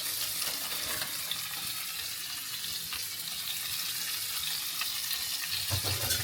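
Oil crackles and sizzles in a pan with onion, tomato and curry leaves, a dense steady frying hiss throughout, with a soft clatter of stirring near the end.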